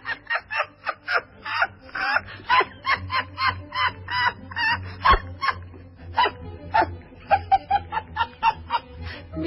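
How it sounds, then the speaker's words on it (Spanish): Two small bichon frisé dogs bark in rapid, repeated yaps, loud and close, forming a steady stream of overlapping barks with a low hum underneath and no voices. "No, mi amor, son dos perritos."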